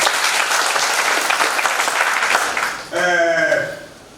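A crowd claps loudly and continuously at a public gathering, and a voice breaks in over the tail end as the applause fades.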